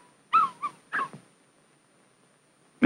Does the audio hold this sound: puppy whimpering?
yes